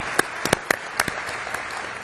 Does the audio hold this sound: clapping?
yes